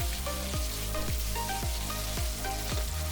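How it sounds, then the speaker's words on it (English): Four medium potatoes cut into cubes fry in oil in a hot pan, giving a loud, dense, continuous sizzle close up, with a faint steady pulse running underneath. "Then add 4 medium potatoes cut in cubes. Then fry this for about 1 minute."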